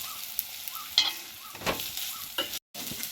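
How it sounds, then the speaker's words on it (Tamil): Ginger-garlic paste fries in hot oil, giving a soft, steady sizzle with occasional stirring scrapes, heard close and alone. "எண்ணெய் சூடாக பிறகு இஞ்சி பூண்டு விழுதை முதல் சேர்த்துக்கொள்ளும்"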